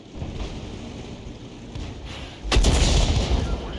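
Tank cannon fire in a tank video game, a distant rumble building before one loud heavy boom partway through with a roaring tail.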